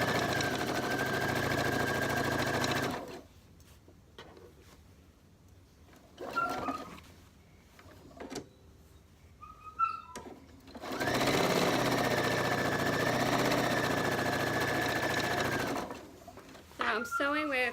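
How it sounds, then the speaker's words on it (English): A sewing machine runs close and loud in two long bursts of steady mechanical whirring, stitching quilt squares cut from charm packs, with quieter handling and a voice talking in the pause between. "I'm sewing with 1/4 inch seam allowance"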